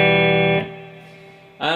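An electric guitar chord rings through a Strymon BigSky set to a spring-style reverb with mid-range decay, then its wash fades out fairly quickly into near silence before another chord is struck.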